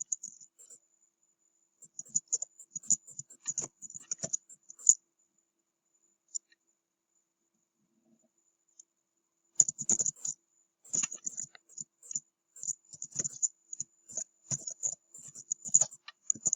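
Quiet bursts of clicking computer keyboard typing, with a pause of a few seconds in the middle before the tapping resumes in quick irregular runs.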